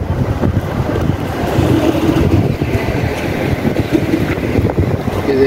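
Strong wind buffets the microphone at a jetty in Seychelles, a steady loud roar with gusts, mixed with water lapping and surf near moored boats; no one speaks.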